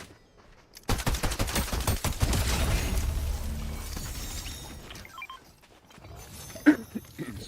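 Rapid gunfire in Fortnite, a dense fusillade of sharp close shots bursting in and rattling for about three seconds, then fading to scattered distant pops and clanks.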